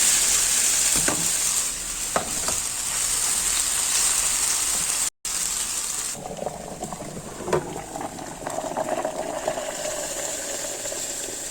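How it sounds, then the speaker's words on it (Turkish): Steady crackling sizzle of cornmeal-coated food frying in hot oil, constant throughout with occasional stirring clicks and no talking. "Bunu mısır ununa bulayıp bunu kızartacağım."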